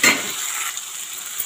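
Tomatoes and onions sauté in a pan with a soft, continuous sizzle, a little louder at the start and holding steady through the short stretch.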